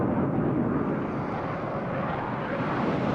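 F/A-18C jet engine at full afterburner in a flight simulator, a steady, loud, broadband roar that holds constant throughout without a break.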